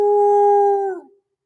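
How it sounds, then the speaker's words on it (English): A lone wolf howls once in a dark forest, holding a single steady, loud tone for about a second before it fades away into silence. "the distant cry of a wolf"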